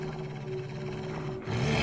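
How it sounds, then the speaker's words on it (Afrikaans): Wolves growl and roar in a low, continuous rumble as a story sound effect, loud and close, swelling near the end with no voices. "Voor hulle staan 'n klomp wolwe."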